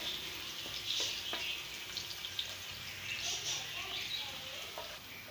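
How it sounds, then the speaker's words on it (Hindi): Garlic fries in hot oil with a soft, steady sizzle close by, broken by a few small clicks and pops, quiet and continuous throughout. "लहसुन को हम इसमें फ्राई करेंगे और गोल्डन कर लेंगे"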